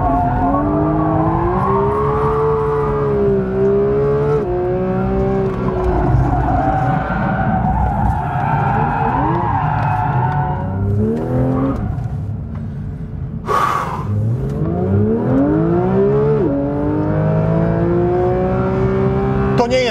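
A Porsche 911 GT3 screams along a race track, its engine note climbing and falling through gear changes close up, with a brief sharp burst partway through and faint voice underneath.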